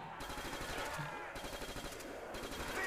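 Rapid automatic gunfire from a 64-round weapon in Black Ops zombies on the Der Riese map, a fast, quiet rattling stream of shots without pause.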